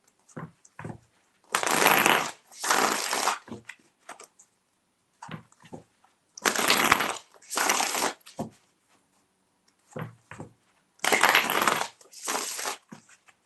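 Tarot cards shuffled in three separate bursts, each a crisp riffling flutter about two seconds long with short taps and knocks between them, close and fairly loud with no talking.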